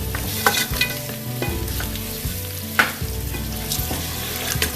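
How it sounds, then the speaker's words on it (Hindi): Garlic and ginger paste frying and being stirred in a pan while cooking aloo gosht, a steady close sizzle broken by scraping and clinking of a spoon against the pan, no talk. "अभी ये मैं इसको भून रही हूँ ताकि लहसुन अदरक का कच्चापन ख़त्म हो जाए।"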